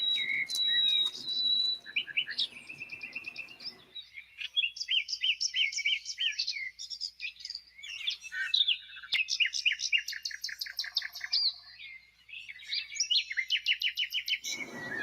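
Wild birds at a backyard feeder, including blue jays, a cardinal and sparrows, chirp and trill in rapid repeated bursts, overlapping calls near and far, loud and continuous with short pauses, no talk.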